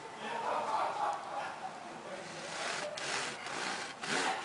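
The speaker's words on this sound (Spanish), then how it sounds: "Ahora vamos a proceder a cortarlos para degustarlos." A knife saws through crusty Venezuelan pan canilla bread with a rasping, scratchy sound, steady at first and then breaking into several quicker back-and-forth strokes near the end, quiet and close.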